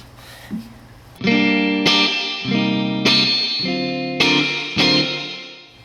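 Electric guitar through a Boss RV-5 digital reverb pedal with decay at the 12 o'clock setting: strummed chords ring out loud and close, each followed by a washy, moderately long ambient tail, with no voices.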